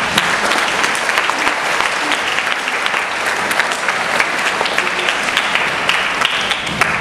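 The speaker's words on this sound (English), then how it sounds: "please join me to congratulate their success by giving them a big round of applause" A large audience at a school prize-giving day breaks into dense, even applause that holds steady and loud throughout without a pause.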